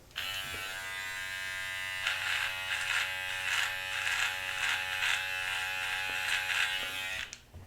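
Close electric trimmer with the guard removed, lining up a sideburn: a steady, loud motor buzz that runs about seven seconds with slight load changes as it works the hair, then cuts off.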